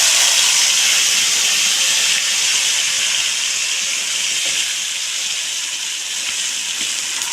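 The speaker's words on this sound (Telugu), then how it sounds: "కొంచెం పచ్చివాసన అనేది పోయేదాకా కూడా అండి దోరగా అనేది ఫ్రై చేసేసుకుందాం" Onion, green chilli and tomato paste fries in a pan, a loud, steady hissing sizzle that holds evenly throughout and eases slightly toward the end, with no talk.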